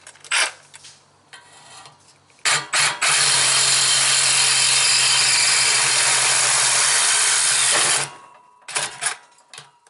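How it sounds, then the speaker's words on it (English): A Sawzall reciprocating saw cuts off a metal header flange on a 1978 square-body truck. Short bursts start it, then a loud continuous buzzing cut runs for about five seconds before it stops, followed by a few clanks. "ahead and cut this flange off and see if I can destroy this. And Sawzall blade is just long enough"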